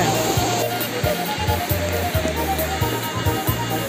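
Small river, the Sibatangkayu, rushing and splashing in a steady broadband wash heard up close at a fishing spot, with a low intermittent hum underneath and no talk.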